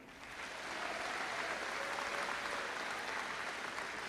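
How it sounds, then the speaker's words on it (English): Sustained applause at a high school graduation ceremony, a dense crowd clapping steadily after a short rise, with no speech over it. "Let's honor these individuals for their willingness to serve our country by giving them another round of applause"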